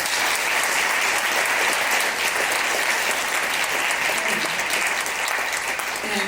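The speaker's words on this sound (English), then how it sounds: "Please give our panelists a round of applause." An audience at a conference panel session applauding in a dense, steady wash of clapping that holds at full strength for several seconds, close and loud.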